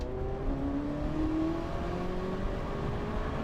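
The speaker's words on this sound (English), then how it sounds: "It just makes a beautiful sound. That V8, it's like nothing else I've ever heard." A classic car's V8 engine running with a steady, sustained drone and slight rises in pitch, close and fairly loud, with no voices over it.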